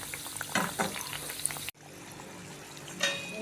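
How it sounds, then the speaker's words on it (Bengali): Thekua frying in hot oil with stirring clatter in the first half, then a sudden drop to a steady, softer sizzle; no voices. "প্রথম পিঠটা একটু হলে তারপর সেটাকে উল্টিয়ে আরেকটা পিঠ ভাজতে হবে"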